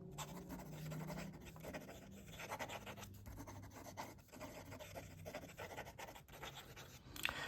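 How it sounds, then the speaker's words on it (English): A German extra fine nib on a fountain pen scratches quickly across paper, a steady close rasp of fast writing with small strokes and pauses, no voices. "Quick writing."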